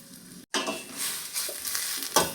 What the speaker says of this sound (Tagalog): Lagay na natin ang ating pansit mga inday.